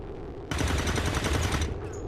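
Rifle fire in XCOM 2 as a shot misses its target, a sudden loud rattling burst that starts abruptly and rings on for over a second before cutting off, with a faint electronic tone afterward.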